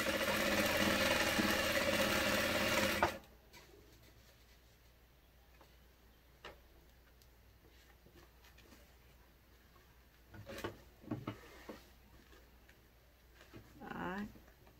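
A sewing machine stitches fabric pieces together, running loud and continuous for about three seconds before stopping, followed by quiet handling noises and faint movement.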